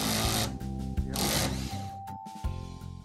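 An automatic screwdriver runs against a torque sensor and slips at its set torque, giving a close mechanical whirring motor drone with brief clicks and shifts in pitch near the end.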